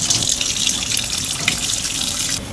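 Tap water runs steadily while something is rinsed clean, a continuous close splashing hiss with no voices, heard during flower-plant potting work.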